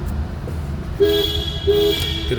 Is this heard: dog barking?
no